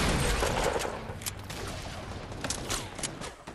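A rapid burst of gunfire in Fortnite Battle Royale comes loud at the start, then irregular shots crack near and far against a dense, noisy battle backdrop.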